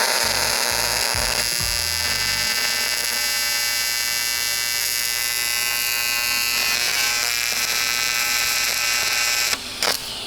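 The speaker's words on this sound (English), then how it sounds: "When you're welding aluminum or any AC welding thing" AC welding on aluminum buzzes loudly and continuously for ten seconds, with a steady electric hum and rattling pulses at the start that smooth into an even drone before a brief break near the end.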